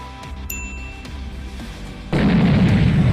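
An animated nuclear-type bomb explosion bursts in after a quieter stretch with faint chimes and tones, then a thick, sustained roaring rumble fills the rest.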